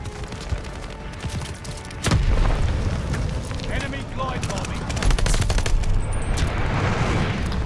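Heavy booming glide bomb blast and rattling gunfire in Call of Duty, loud and continuous, with a dense rumble swelling after a sharp hit partway through, while a player shouts over it.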